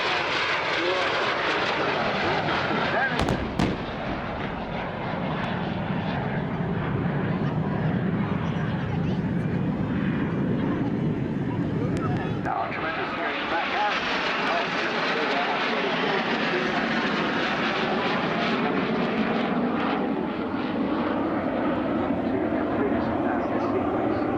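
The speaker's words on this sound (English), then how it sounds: "And Ollie Suckley in the Strikemaster pair, running in now for their final manoeuvre and pull-up" A pair of Strikemaster jet aircraft flying at an air show, a sustained engine roar that swells and shifts in pitch as they run in and pull up, with a commentator talking over it.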